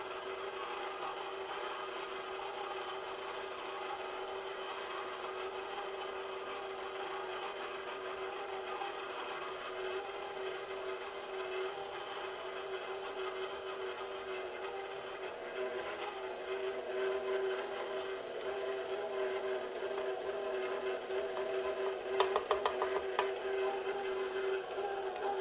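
An electric mixer beats sugar into a butter and cream cheese mixture for a lemon cream cheese pound cake, giving a steady, moderately quiet whir that holds level throughout with a few faint scraping clicks near the end.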